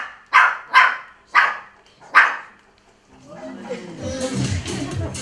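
A pet dog performing on command at a show gives four sharp, evenly spaced barks, close and loud, followed by a murmur of voices and background noise.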